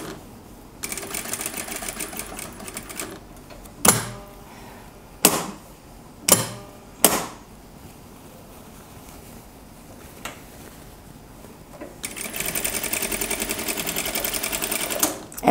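A domestic sewing machine stitches a gathered blouse in steady whirring runs, with several sharp clicks and thumps of adjustments between stretches of stitching, close and fairly loud.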